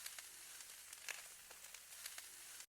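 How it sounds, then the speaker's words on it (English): Steady crackling sizzle of brisket fried rice frying in a hot pan, continuous and close, with a few louder pops. "listen to that sizzle"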